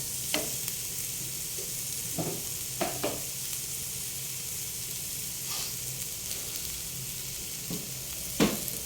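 Sliced carrots, tomato and spring onion fry in a pan with a continuous soft sizzle, while scattered knocks and scrapes from stirring recur throughout.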